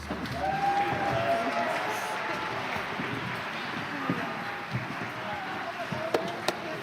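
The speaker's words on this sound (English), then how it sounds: "Please join us in giving all of tonight's performers a well-deserved round of applause." An audience applauds performers at a school district showcase, a dense and steady wash of clapping from a large crowd that holds for several seconds before thinning out.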